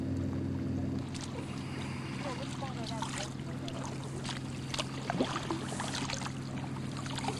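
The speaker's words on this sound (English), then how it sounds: "There we go, we're paddling back in." Canoe paddling on the water at Acadia National Park: soft irregular splashes and trickles of paddle strokes over a steady low background hum, fairly faint.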